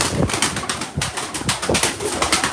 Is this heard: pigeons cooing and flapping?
yes